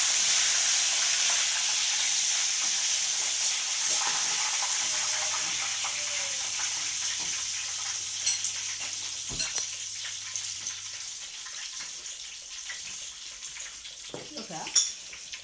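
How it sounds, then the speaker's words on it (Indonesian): Eggs frying in a hot pan, a steady bright sizzle that is loud at first and slowly fades, with a few scraping clicks and knocks from a spoon and faint voices in the background. "Tak goreng enak ya."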